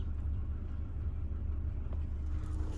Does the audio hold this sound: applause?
no